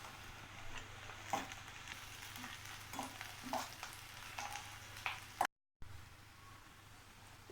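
Onion and green chillies sautéing in a pan for fried idli, a soft steady sizzle punctuated by occasional spoon scrapes and stirring clicks, briefly cutting out near the end before the frying hiss resumes.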